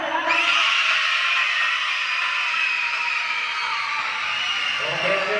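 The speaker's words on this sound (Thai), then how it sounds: "ขอเสียงคนเชียร์ด้าน" A crowd of students at a Thai primary school event shouting and cheering loudly and continuously, with high, strained voices sustained throughout.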